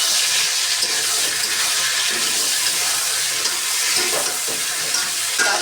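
Green chillies frying with already-fried eggplant in a pan, a steady close, loud sizzle and crackle of hot oil filling the whole stretch without pause.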